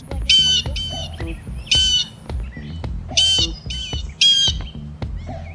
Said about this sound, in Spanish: Aquí hay unos pájaros muy extraños.